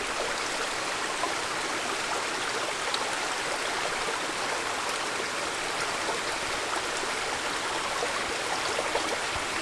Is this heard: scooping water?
yes